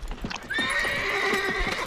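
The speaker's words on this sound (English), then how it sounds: "The horse!" Hooves pound in a fast rhythmic gallop while a horse lets out a long, loud whinny over them.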